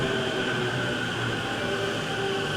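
A train pulls into a station in Japan on the Chuo Line, giving a steady, loud rumble with a faint high whine. No one speaks.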